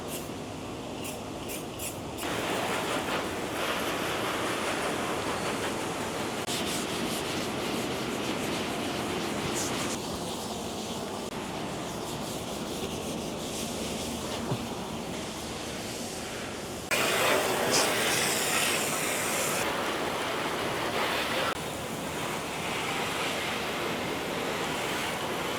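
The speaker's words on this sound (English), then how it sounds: "we're gonna put some water and some scuff stuff on these panels so we can clean them up and get them all ready to paint" Wet scuffing of car body panels with water and a scuff pad before painting, a steady broadband hiss and rubbing that runs continuously for the whole stretch, growing brighter and louder in its later part.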